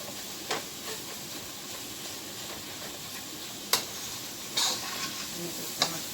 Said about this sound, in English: And just gonna stir them all together.